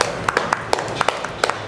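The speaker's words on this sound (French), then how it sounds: "Non mais applaudissez pas là" Scattered clapping from a small group, a handful of sharp, uneven claps spread across under two seconds, fairly near and alone without talk.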